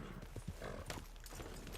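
Horse hooves clip-clop at a steady trotting rhythm in a video game, fairly close, with a busy layer of game sound around them and no talk.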